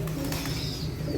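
Pigeons drinking water mixed with Lysovit syrup coo steadily up close, a soft continuous murmur with faint wing flutters mixed in.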